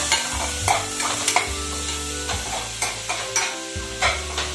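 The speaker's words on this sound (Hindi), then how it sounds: "और पत्ता गोभी कटा हुआ, हम इन्हें हल्का सा फ्राई करेंगे" Chopped cabbage fries lightly in a pan alongside tomato, a steady sizzle broken by repeated scraping stirs and spatula clatters in an uneven rhythm, close and fairly loud.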